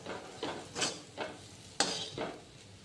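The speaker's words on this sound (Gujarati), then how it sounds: "હળદર આટલી જ અને મીઠું એટલું નાખી અને વઘાર કરીને હલાવી દેવાનું" A spoon stirs a spice tempering of chilli, salt and turmeric in a pan, giving quiet scraping strokes in an irregular rhythm, about six close strokes with a faint sizzle underneath and no talking.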